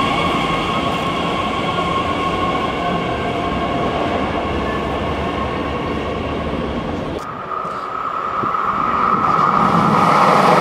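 An S-Bahn commuter train rumbles loudly through the Leipzig City Tunnel, a dense, sustained roar with a steady whine that dips briefly then swells again as the cars pass close by.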